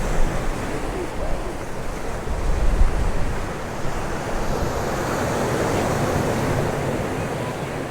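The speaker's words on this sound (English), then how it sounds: "I could sit and watch the waves coming in all day." Waves roll in on a windy beach at Santa Ponsa, Mallorca, a continuous washing surf with strong wind buffeting the microphone, loud and steady with no talking.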